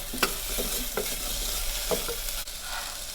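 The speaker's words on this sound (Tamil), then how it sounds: "பூண்டு போட்டு வதக்கிடலாம்." Onion, garlic and tomato sautéing in a pan for mutton bone soup, a steady soft sizzle with a few light clinks and scrapes of stirring, close and alone.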